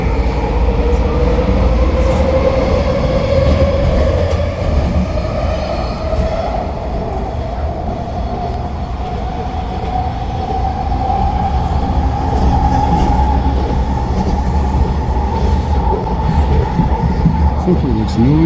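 A Vancouver SkyTrain metro train rumbles loudly past along an eastbound station platform in Burnaby, B.C., wheels rattling and a rising squeal threading through the steady roar; a voice speaks briefly under it.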